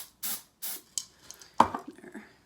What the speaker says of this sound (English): Now I'm gonna hit it with the, of course, Design Master Sparkle Spray